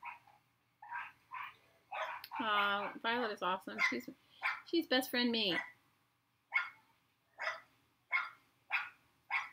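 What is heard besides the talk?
neighbor's dogs barking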